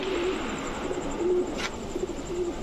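Pigeons, including a butter-red Narayanganj bird, coo repeatedly in soft, low murmuring calls, several overlapping phrases close by against a faint background hiss.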